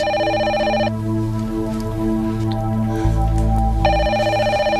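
A telephone rings in two bursts of a bright electronic bell, loud and close, over low background music with no talk.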